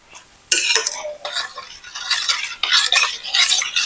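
Salt and pepper mixture for pani puri being stirred in a bowl, a series of close, bright scraping and clinking strokes of a utensil in irregular bursts after a quiet start.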